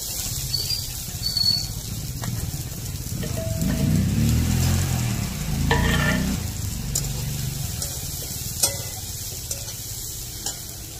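Onion, cumin and mustard seeds sizzle and crackle in hot oil on a stove, a steady close frying hiss that swells in the middle as it is stirred, with a few sharp pops.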